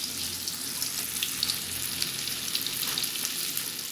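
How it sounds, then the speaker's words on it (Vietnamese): Tofu fries in hot oil with a dense, steady sizzle and bright crackling spatter, close and fairly loud, with no talk over it. "mình chiên tàu hũ cho nó vàng hết các mặt"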